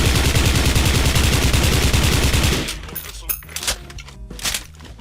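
Rapid automatic fire from an M4A1 SOPMOD1 rifle in the video game Special Force 2: a loud, fast, steady stream of shots for about two and a half seconds, then a few quieter clicks and clatters.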